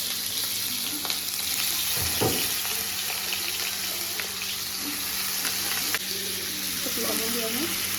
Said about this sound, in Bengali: কড়াই গরম হয়েছে, আলুগুলো একটু দিয়ে দিই।